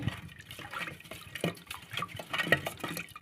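Water being poured into a pot of mango dal in a home kitchen, a light, uneven splashing and trickling with small drips, close and moderately quiet, with no talking.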